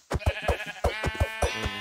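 Sheep bleating in a survival video game, several short wavering bleats in quick succession, close and fairly loud with no talking over them.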